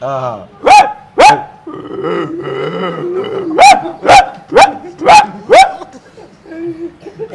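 A person imitates an angry dog: two fierce barks, a low rumbling growl, then a quick run of five harsh barks, loud and close.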